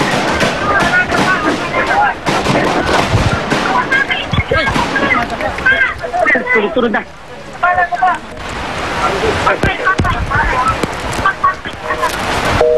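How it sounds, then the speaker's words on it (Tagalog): Rapid series of gunshots, sharp cracks repeating throughout under urgent speech and crowd commotion at an outdoor scene. "sunod-sunod na putok. Ewan ko kung narinig nyo dyan."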